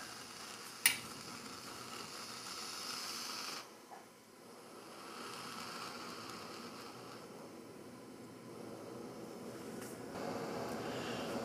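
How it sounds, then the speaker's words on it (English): A lit camping stove hisses steadily beneath a lidded pot, a sharp click at the start, then a constant low roar with slight shifts and no voices. "Fire up the stove."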